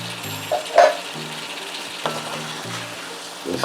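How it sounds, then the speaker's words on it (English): Canned Spur Tree ackee, drained of brine, being gently stirred into saltfish in a pan, with soft scraping and a few light clinks over a steady low sizzle. "you have to stir it in gently, or else it will break up in a lot of little tiny pieces"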